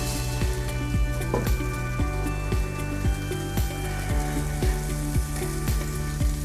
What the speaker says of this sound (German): Jetzt können wir schon mal unsere Cabanossi und unseren Schinkenspeck reingeben.